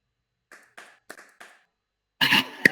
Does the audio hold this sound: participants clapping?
yes